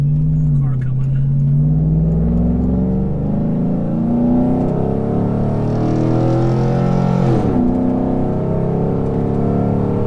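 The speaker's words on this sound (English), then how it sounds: "Let's just, car coming." Car coming past on a road, heard from inside a tuned performance truck: a loud low engine drone swells and sweeps through a brief whoosh near the end, with someone talking over it.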